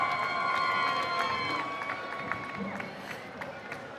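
A large arena crowd at a FIRST Robotics Competition championship roars and cheers for the Blue Alliance, with sustained whistles and shouts that stay loud before gradually thinning out, while an announcer's amplified voice carries over the noise.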